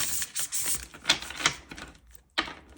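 Tarot cards shuffled by hand during a card reading, giving a run of crisp riffling and slapping bursts of fairly close, moderately loud shuffling with short pauses between them, and no talking.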